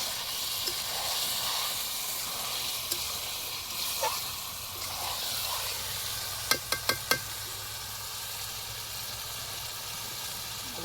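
Chicken meat frying in a pan at a party with friends, a steady soft sizzle and hiss throughout, with a few quick sharp clinks and scrapes near the end.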